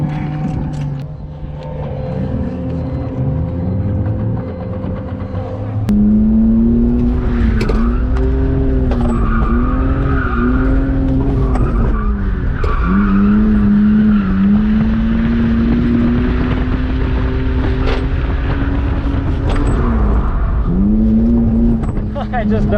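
BMW E46 drift car running hard on a race track during its first shakedown, a loud sustained engine note rising and falling through revs, with possible tire squeal mixed in and voices talking over it.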